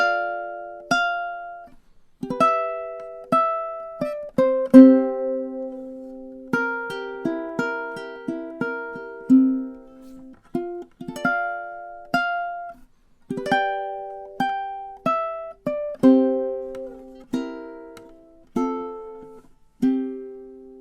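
The whole B section of a song played on ukulele: plucked notes and chords in a steady, gentle rhythm, each note decaying before the next, close-miked and solo, with no talking for about twenty seconds.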